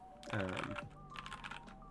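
Keys on a LeleLab Maxum65 mechanical keyboard clack in a short burst of typing, close and fairly quiet, with a brief voice-like tone mixed in early on.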